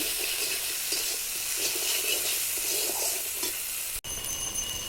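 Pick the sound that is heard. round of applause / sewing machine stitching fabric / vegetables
vegetables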